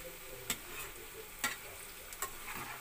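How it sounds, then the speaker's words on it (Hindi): Okra fries quietly in a pan with a soft, steady sizzle, broken by a few sharp clicks and taps of a utensil. "देखिए भिंडी पूरी फ्राई हो चुकी है"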